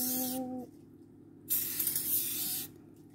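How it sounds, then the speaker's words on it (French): Baking release grease spray from an aerosol can, with two distinct hissing bursts separated by a pause, the second longer and louder, close up. "donc c'est une bombe à graisser"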